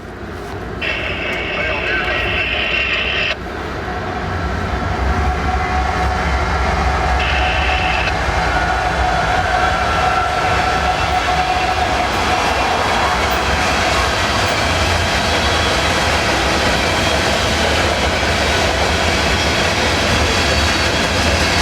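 A coal train rolls past a trackside spot east of Lakeland in Central Florida, a loud, steady rumble of rail cars with faint clickety-clack that holds for the full stretch.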